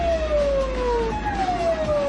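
A police car siren wails close and loud in a Japanese city street, its tone sliding down and back up in a continuous sweep over the low rumble of traffic.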